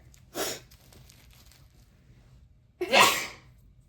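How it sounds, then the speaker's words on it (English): Two sneezes close by: a smaller breathy one first, then a louder, sharper sneeze a couple of seconds later, with near silence between. "Oh God, I gotta sneeze."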